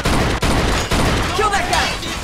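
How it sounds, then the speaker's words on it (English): Gunfire in Mafia 2, played on PC: a quick burst of sharp shots in close succession, loud and near, with clattering game sounds following. "Oh my god, I actually shot somebody!"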